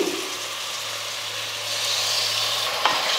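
Ginger garlic paste fries with mutton and tomatoes in a pan, giving a steady close sizzling hiss with a low hum beneath and a single brief knock near the end.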